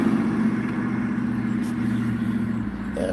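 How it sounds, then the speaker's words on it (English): A car drives through a red light at a street intersection with a steady, moderately loud engine hum and road noise that fades slightly near the end. "did that car run that light?"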